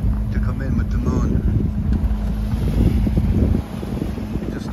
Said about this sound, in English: Just started the engine.